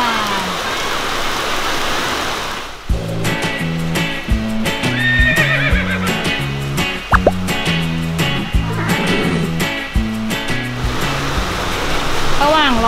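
A horse whinnies loudly close by amid a steady wash of rain, with stamping hooves and a voice talking underneath.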